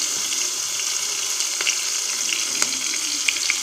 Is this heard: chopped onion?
yes